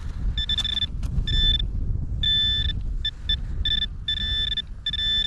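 Double beeps from a Nokta Legend metal detector with an LG30 coil over a shallow pop rivet in a field, bright repeated tone pairs sounding over low wind or handling rumble.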